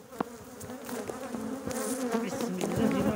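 Honeybees swarm around oval beehives in a mountain apiary, giving a steady, close, dense buzzing hum that swells slightly over a few seconds with no talking.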